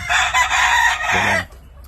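A Sweater McGinnis Blueface gamefowl rooster, two years old, crows once up close, loud and ringing for over a second before cutting off into quiet.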